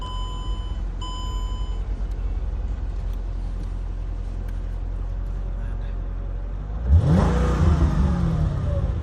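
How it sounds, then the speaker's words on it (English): A car engine with stock exhaust idles with a low rumble, then revs sharply near the end, the roar swelling loudly and close by. "That's the stock exhaust,"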